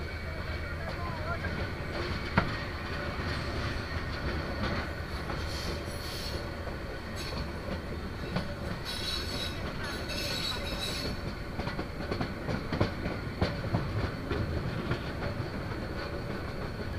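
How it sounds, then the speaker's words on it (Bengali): The Mahanagar train leaves Comilla railway station with a steady rolling rumble, squealing wheels and some clicking, heard close and continuous, with voices talking over it. "কুমিল্লা রেল স্টেশন থেকে মহানগর বদলি ট্রেনটি ছেড়ে গেল তার পরবর্তী গন্তব্যের উদ্দেশ্যে"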